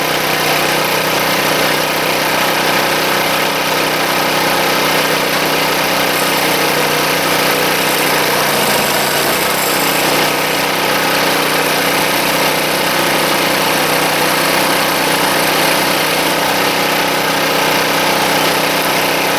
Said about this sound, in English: Just trying this out a little bit at a time, see what that engine can handle